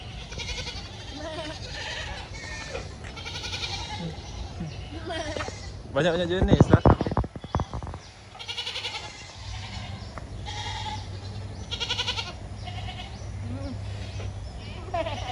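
Goats bleating repeatedly nearby in a zoo pen, with people talking over them and a brief loud clatter in the middle.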